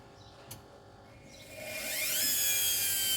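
Whirlpool washing machine motor spinning up to high RPM, its whine rising steadily in pitch and loudness over a couple of seconds before holding a steady high tone, heard close with no talk.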